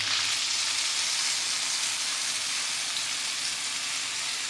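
Chili paste frying with eggs in a pan gives a steady, close hissing sizzle that holds at an even level throughout, with no talking.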